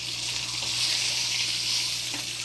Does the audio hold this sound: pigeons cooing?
no